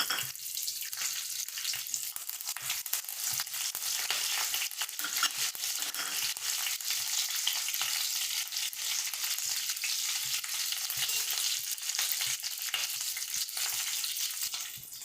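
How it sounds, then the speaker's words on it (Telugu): Green chilli and curry leaves sizzle in hot oil, a steady, dense crackling hiss that runs continuously and close for the whole stretch with no talking. "కరివేపాకు వేగిపోయిందండి."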